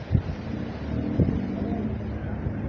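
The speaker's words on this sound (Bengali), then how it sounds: "হ্যাঁ হাওয়াটা দিচ্ছে।" Wind blows along the Ganges riverbank at Barrackpore, buffeting the microphone with a steady low roar and a couple of brief, heavier gusts near the start and middle.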